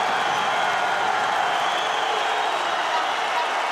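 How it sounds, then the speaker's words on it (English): A loud, steady roar from an arena crowd at a European Olympic qualifying wrestling bout, dense cheering and clapping sustained throughout without a break. "The crowd is going wild in here."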